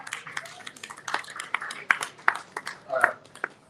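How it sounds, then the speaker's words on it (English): Scattered handclaps from an audience in a classroom event on educational equity, sparse and uneven bursts rather than full sustained applause, moderately close, over a murmuring room. "Please a round of applause for her."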